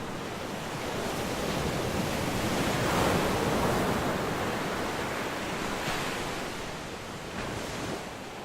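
Ocean surf rolls onto a Hawaiian shore, a continuous broad wash of breaking waves that swells and eases over eight seconds, steady and fairly loud with a windy edge and no voices.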